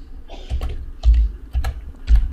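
Typing on a computer keyboard, four or five clusters of clicking keystrokes with dull thumps, close and fairly loud, evenly paced, with no talking.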